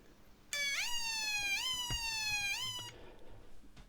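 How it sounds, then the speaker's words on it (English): A DIY US-style electronic siren kit wails in a rising, stepped tone that repeats three times, loud and close, then cuts off. "Now press the push button and enjoy the sounds produced by the siren."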